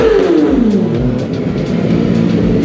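A loud group of sport motorcycles rev and rumble close by on a city street, one exhaust sweeping down in pitch as it backs off while the others keep idling and blipping their throttles.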